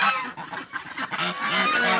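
Several geese honking close by, loud nasal calls overlapping in quick bursts, with the flock chattering continuously.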